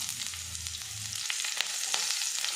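Whole cumin seeds and long-cut green chilies crackle in hot oil in a home kitchen, a soft steady sizzle with a low bubbling start that thins into faint spits and pops.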